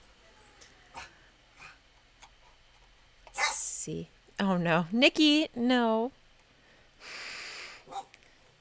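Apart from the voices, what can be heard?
dog barking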